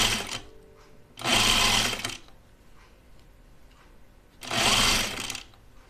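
Sewing machine stitching a seam on a pajama top, running in two loud close bursts of about a second each separated by a pause with faint handling.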